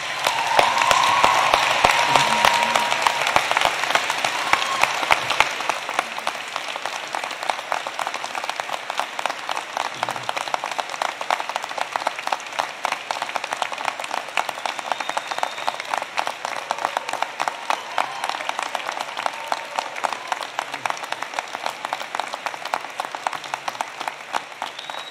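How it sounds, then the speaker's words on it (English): A large convocation crowd at a university faculty ceremony gives sustained applause, a thick, steady wash of many hands clapping that lasts over twenty seconds, loudest at the start. "give them a huge round of applause"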